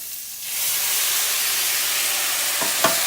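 Steak fond is deglazed in a hot pan with a quick stir. A sudden loud, steady steam hiss rises and holds for about three seconds, with a couple of small knocks near the end.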